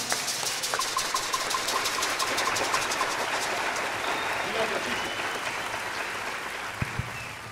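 Applause fills a jazz concert hall for a bassist at a Jazz Plaza descarga, a steady moderate wash of clapping that slowly fades, with a couple of sharp knocks near the end.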